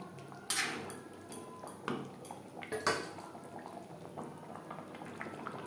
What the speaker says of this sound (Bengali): গ্রেভির সাথে মাছ মাছের মাথা তিন চার মিনিট রান্না করব